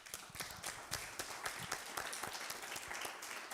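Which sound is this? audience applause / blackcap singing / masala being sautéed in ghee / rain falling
audience applause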